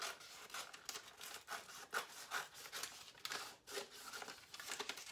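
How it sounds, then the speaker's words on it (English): Infusible ink transfer sheet being trimmed through the middle, a quiet close run of rasping cuts and rustling sheet sounds in uneven strokes, with no talking. "So I'm just going to trim away in the middle."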